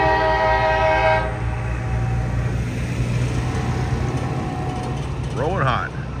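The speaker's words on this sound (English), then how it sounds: "we got a freight train coming" A freight train rolls through a city street in Columbus, Georgia, a loud continuous rumble close by with a horn blast at the start and people talking over it.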